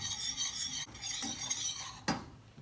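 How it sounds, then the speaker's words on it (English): Whisk scraping and stirring egg into a mixture in a bowl, a continuous rhythmic swishing with a sharper clink near the end. "Slowly whisk in the egg."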